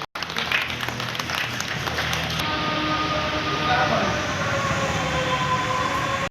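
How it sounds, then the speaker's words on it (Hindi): A broad, steady wash of noise fills the room as an audience welcomes a guest with loud applause, continuous and fairly close for several seconds, with a brief change in texture partway through. "जोरदार तालियों से स्वागत करेंगे।"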